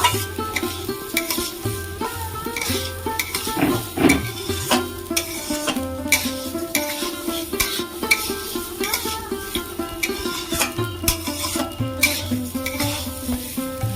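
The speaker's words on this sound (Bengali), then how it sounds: "ঘি দিয়ে চালগুলো ভাজলে চালটা খুব সুন্দর হয়" Gobindo bhog rice is fried in ghee and stirred in a pan while making Bengali payesh, with repeated scraping stirs and light clinks running steadily beneath prominent background music.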